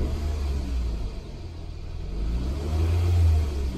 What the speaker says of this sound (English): press the accelerator and it sounds smooth